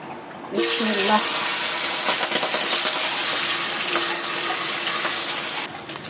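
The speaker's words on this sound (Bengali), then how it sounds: "পাশের চুলায় আমি এই ইলিশ মাছটা ভেজে নেব" Hilsa fish sizzling in hot oil, a loud continuous hiss and crackle that starts abruptly and carries on steadily, with a brief voice at the start.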